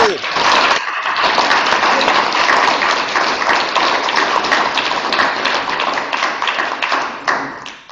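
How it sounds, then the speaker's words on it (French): Sustained applause from a theatre festival audience, a dense, loud wash of many hands clapping that fills the space for several seconds before tapering off. "je voudrais qu'on se donne à tous une bonne main d'applaudissements pour tout le travail que vous avez fait pour arriver à aujourd'hui"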